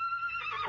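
Horse whinnies once, high and tonal, wavering and rising toward a brighter, breathy end. The call is short, fairly faint and heard on its own.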